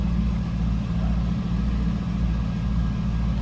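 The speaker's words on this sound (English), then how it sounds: "Nice deep throaty growl on these cars. Good sounding exhaust." A 2001 Chevrolet Camaro SS coupe with its SLP-modified exhaust idles with a deep, throaty, steady rumble, close and loud, with no talking.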